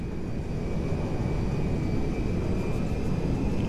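Cargo jet landing in the video game GTA V, a steady, loud broadband engine roar with a thin whining tone running through it, unbroken and heard alone.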